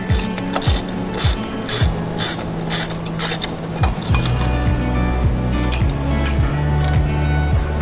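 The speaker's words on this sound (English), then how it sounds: "Now we can start taking the spindle apart. Special spindle nut tool." A special spindle nut tool ratchets on the spindle of a classic Jeepster Commando during a disc brake conversion, giving loud, close, rapid clicking strokes in quick bursts that shift to a lower, heavier ratcheting rhythm partway through.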